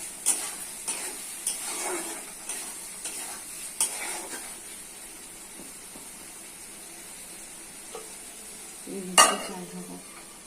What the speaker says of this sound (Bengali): মাংস মশলার সঙ্গে কষে দিতে হবে